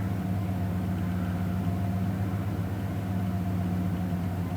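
A 1995 Ford 302 V8 idles steadily at close range, its low, even hum holding a constant pitch throughout with no voices over it.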